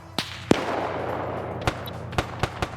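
Sharp gunshot cracks in a multiplayer shooter match, several separate loud reports spaced irregularly over a background hiss, including a sniper rifle shot from an M76.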